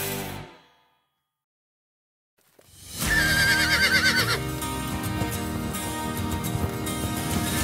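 A horse whinnies loudly after a brief silence at a guest ranch, a long shrill neigh rising over hoofbeats and background music.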